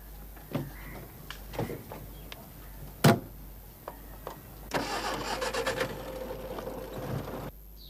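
A car engine cranks and starts, then revs and pulls away, loud and close, after some scattered knocks like a door shutting.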